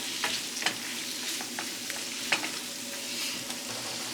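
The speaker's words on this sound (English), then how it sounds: "we're going to add our tomatoes in there and let it kind of swinge for a little bit here" Tomatoes and onions sizzling in a pan for shrimp scampi, a steady soft fry hiss broken by several light scrapes and taps of stirring, close by with no talking.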